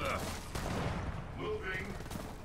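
Gunfire in Gears of War 4 co-op play, a distant rattling fusillade of shots running under in-game voices and radio chatter, moderately loud throughout.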